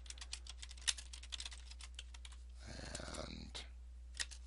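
Fingers tap quickly on a computer keyboard, a close, fairly quiet run of clicking keystrokes with a brief rustle in the middle and a low steady hum beneath.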